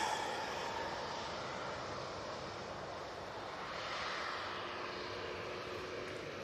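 A positioning flight from London Gatwick arriving at Manchester Airport, its jet engines a broad, distant roar with a steady washing hiss that swells slightly and fades, heard outdoors with no talking.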